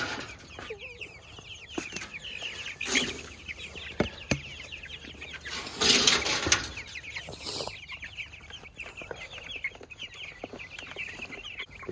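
Growing chicks on a homestead clucking and peeping steadily during morning feeding, with occasional louder rustles and knocks of feed and handling nearby.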